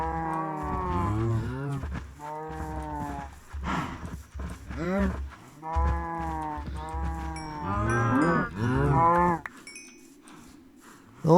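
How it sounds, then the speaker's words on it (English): Cow lowing in Minecraft, a series of drawn-out, harmonic moos repeating over about nine seconds, fairly close and clear, followed by quieter low rumbling noise. "It's got a random cow just over here."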